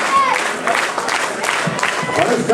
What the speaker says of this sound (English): Hometown crowd trying to rally behind Jamie Olivencia.